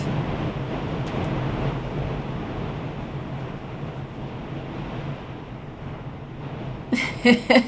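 Strong storm winds during severe weather in Ohio roar steadily and close to the microphone, a dense rushing blast that holds through the whole span, with a few sharp knocks and bursts near the end.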